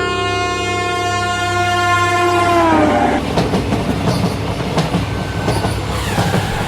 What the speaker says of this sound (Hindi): तब तक ट्रेन छाया नगर आ जाती है